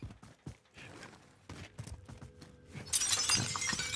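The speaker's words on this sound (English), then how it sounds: "I broke glass again." Glass shattering in a video game, a sudden bright crash arriving late after scattered footsteps and clicks, its glittering debris lingering to the end.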